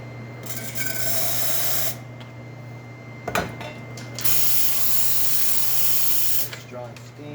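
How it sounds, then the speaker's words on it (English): Steam wand of a freshly serviced Lelit espresso machine hissing in strong bursts, two long sprays separated by a short pause and a sharp click, over a constant low machine hum. "Let's check the steam."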